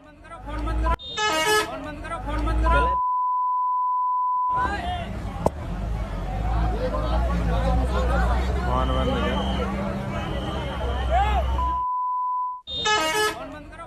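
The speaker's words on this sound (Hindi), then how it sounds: "वो हम आपको सुनवा नहीं सकते, बीप कर दिया है हमने" Two long steady censor beeps, each lasting about two seconds, cover swearing amid loud shouting in a noisy crowd at a religious gathering, with a short blast at the end.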